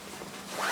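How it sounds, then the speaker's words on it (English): A vertical zipper on the front pocket of a Kuiu Venture 2300 hunting day pack is pulled open in one short, close, raspy zip that rises slightly in loudness at the end. "So it's a vertical zipper, comes down"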